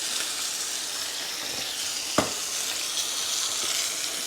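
A rib eye steak sears in a hot iron skillet, giving a steady, close sizzling hiss throughout with a single sharp tap of the tongs partway through.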